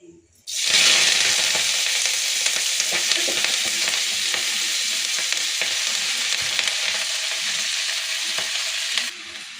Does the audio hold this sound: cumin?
yes